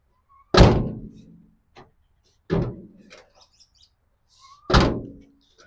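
A door on a 1948 GMC custom truck shuts three times, each a solid, close thunk followed by a short decay, spaced about two seconds apart in otherwise quiet surroundings.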